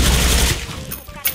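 Rapid bursts of FAMAS Black rifle fire in the shooter game Special Force 2, loud and close for about half a second, then fading into quieter echoing shots and a short final crack.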